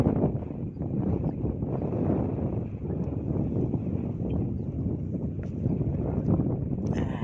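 Strong gusts roar across the microphone at a fishing spot by a swamp, a heavy, constant low rumble of wind noise without pause, with no one speaking.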